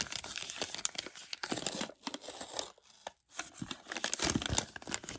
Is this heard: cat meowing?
no